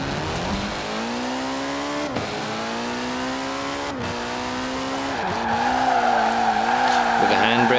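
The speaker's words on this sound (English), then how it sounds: "With a handbrake, it does drift, indeed." A 1985 Ford RS200 Evolution in Forza Horizon 4 drifts under handbrake, its engine droning steadily while the tires squeal and skid, growing louder toward the end, with someone talking over it.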